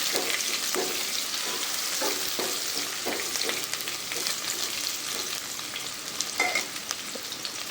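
Onion frying in a pan with garlic crackles and sizzles steadily up close, broken by the scrape of a spoon stirring at irregular intervals.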